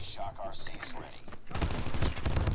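AK117 assault rifle in COD Mobile firing a dense automatic burst that follows a moment of quieter in-game sounds and chatter, the rapid shots running continuously to the end.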